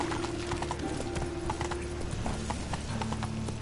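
Roach, Geralt's horse in The Witcher 3: Wild Hunt, trots along with steady, close clip-clopping hoofbeats over a continuous game backdrop of ambient music.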